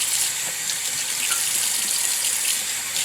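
Water from a sink tap runs steadily and flows down the drain while something is washed out, a continuous close splashing rush with no talk.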